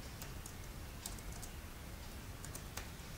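Code being typed on a computer keyboard during an Arduino LED tutorial, a sparse run of quiet, close key clicks spread unevenly over a faint room hiss.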